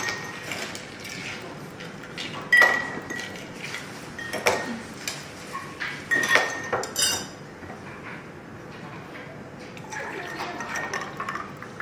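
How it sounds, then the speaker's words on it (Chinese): Ice cubes clink and rattle into drinking glasses in several irregular bursts of glassy knocks, close by, with a faint wet background. "然后这边呢，我们在每个杯子里面先置入冰块"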